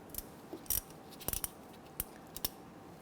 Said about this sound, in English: I'm gonna use a 5/16 socket here on our ratchet. We wanna go ahead and loosen this.